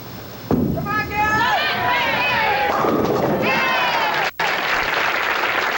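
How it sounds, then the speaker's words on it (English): Bowling pins crash after a ball strikes them at a 1979 professional bowling final, a loud clattering burst followed by ringing scatter and crowd noise, with commentator voices underneath. "See how that pins fall, Al?"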